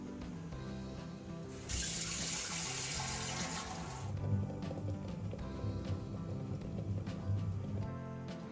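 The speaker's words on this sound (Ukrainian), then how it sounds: "тепер я їх залью холодною водою" Cold water runs from a tap over boiled eggs in a steady broadband rush for a couple of seconds, then continues more softly with splashing and light clatter in a sink.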